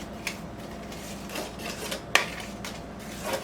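A small metal teaspoon stirs a flour mixture for copycat Chick-fil-A nuggets, scraping and clinking against the bowl in irregular strokes, with one sharper tap partway through and no talking.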